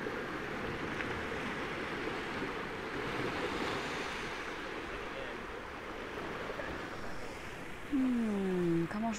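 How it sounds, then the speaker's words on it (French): Ocean waves wash steadily onto the shore in a continuous, soft rushing surf with some wind, fairly faint and unbroken, and a voice speaks briefly near the end. "Et puis laissez-vous bercer par le bruit des vagues."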